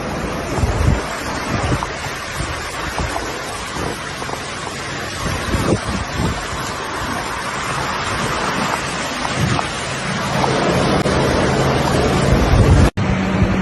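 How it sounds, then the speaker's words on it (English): Storm wind roars against the microphone over crashing surf on the United Kingdom coast, a dense continuous rush that swells louder toward the end. "Powerful storm waves and onshore surge conditions tore away part of the historic Victorian Pier"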